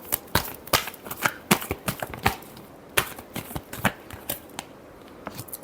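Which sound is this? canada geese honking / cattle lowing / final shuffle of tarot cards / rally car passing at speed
final shuffle of tarot cards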